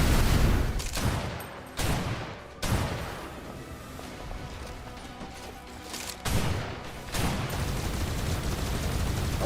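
Heavy gunfire fills the scene in the video game Snowbreak: Containment Zone, loud sustained bursts of rapid shots broken by brief pauses and booming impacts, close and dense from start to finish.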